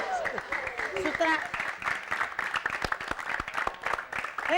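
Hand clapping patters quickly and evenly beneath people talking in a comedy scene, close and moderately loud, continuing through most of the moment.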